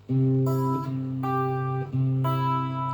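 Plucked guitar notes ring out in a steady pattern, a bass note and higher strings struck together about once a second, three times, clear and close.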